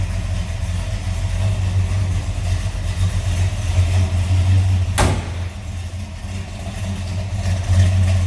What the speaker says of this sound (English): Listen to that nice sound of that 396.